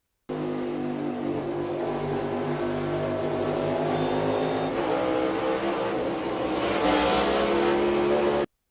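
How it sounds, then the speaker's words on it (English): A NASCAR race car engine drones steadily from an in-car view, then climbs as the throttle opens, growing louder and rougher toward the end. "you can hear that Daniel's throttled up right there"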